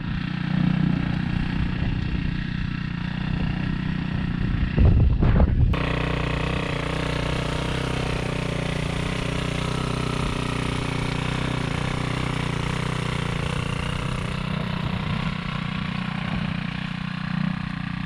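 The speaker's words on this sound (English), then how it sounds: "This rototiller is the Earthquake Versa. It's got a Viper engine, 99cc" A small 99cc Viper gas engine on an Earthquake Versa rototiller runs steadily at close range with a low, rough idle-like drone, after a brief louder burst near the start.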